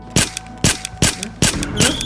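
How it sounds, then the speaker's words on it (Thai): Minecraft gunfire cracks out in five sharp, evenly spaced shots, loud and close, with a faint tonal hum beneath. "เด็กยิงปืนดังสนั่นเหมือนจุดพลุ"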